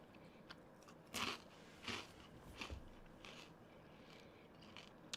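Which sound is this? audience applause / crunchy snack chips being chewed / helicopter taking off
crunchy snack chips being chewed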